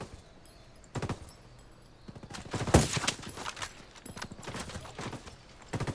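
A mounted weapon emplacement firing in Ghost Recon Wildlands, with sharp bursts of automatic gunfire in irregular clusters, one especially loud crack near the middle, and quieter pops between the volleys.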